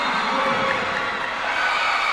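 A dense, loud basketball crowd in Basud cheers and shouts continuously at a Bicol cup game between Basud and Mercedes, a steady wall of voices with no pauses.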